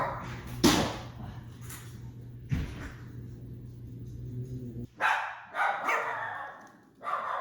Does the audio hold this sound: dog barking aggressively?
yes